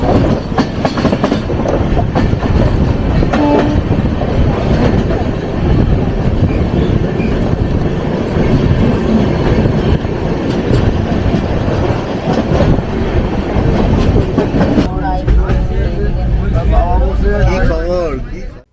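The 18046 East Coast Express rolls along with a loud, close roar and steady clickety-clack of wheels over rail joints. The tone shifts near the end.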